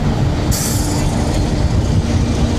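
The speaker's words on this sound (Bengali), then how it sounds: "এই ট্রেন যাচ্ছে" Loud continuous rumble of a train going by close up, with a brief high metallic squeal of wheels near the start.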